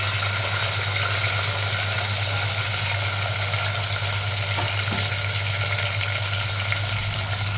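Small shallots sautéing with salt, curry leaves and garlic in a pan for vathal kuzhambu, a continuous dense sizzle over a low steady hum, close and even throughout.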